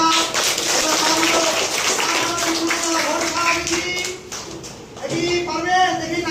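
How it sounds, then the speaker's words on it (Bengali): Children in a classroom clap their hands together in a dense, steady burst of applause lasting several seconds, briefly thinning before a second round, with a voice and an adult talking over it. "ভেরি গুড হাততালি দাও তোমরা"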